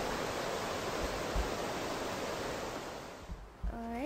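Broadband rushing water from a stream and waterfall in the game Sky: Children of the Light, a steady full wash throughout, with a few soft thumps and a short rising chime-like tone near the end.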